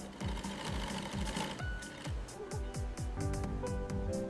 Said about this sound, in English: The reinforced box stitch permanently locks the woven carry straps in place.